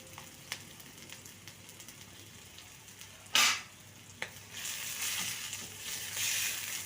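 Chopped onion hits hot oil in an iron wok after a few light clicks and a clatter, then a steady, bright sizzle of frying continues to the end.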